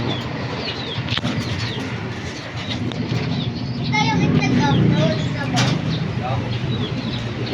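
Young racing pigeons being readied for a summer race flutter and coo in a loft, wing flaps and soft calls continuing under someone talking nearby.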